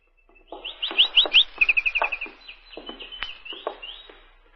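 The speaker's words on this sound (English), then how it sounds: "Gee, with a canary bird." A canary sings indoors in a room, with bright rapid chirps and trills that rise into a quick warbling run before trailing off into a few short tweets, clear and close against silence.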